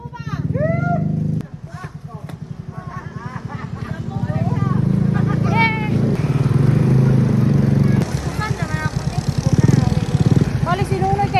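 A motorcycle engine runs steadily throughout, a constant mid-pitched drone that sits under continuous talk from a rider and passenger in a rural Philippine setting.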